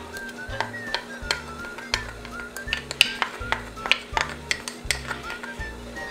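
Chopped garlic stirred in hot oil in a pan, with a steady run of utensil scrapes and clinks against the pan over a low hum, close and moderately loud, no talking.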